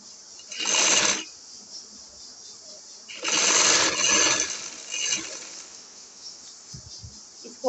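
A sewing machine stitches the shoulder seam of an angrakha frock in two close bursts of fast, buzzing whir, the second longer, with quiet pauses and a few soft handling clicks between them.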